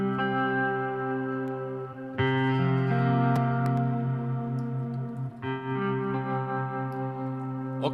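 Sustained electric guitar chords from a cinematic guitar library, processed through a tremolo effect, ring alone with shimmering, pulsing texture and shift to a new chord twice.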